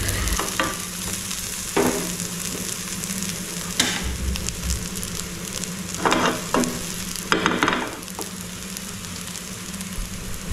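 Soya chunks fry in hot oil in a pan, a steady close sizzle broken by several scraping stirs of a spoon, with no voices.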